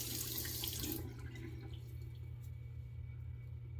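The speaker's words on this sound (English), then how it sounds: "Run some hot water over it." A tap runs hot water with a loud rushing stream for about a second, then drops to a softer, steady flow under a low hum.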